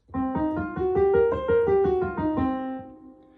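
A minor blues scale played note by note on a pitched instrument, a quick rising then falling run of about a dozen clear, evenly spaced tones, close and alone.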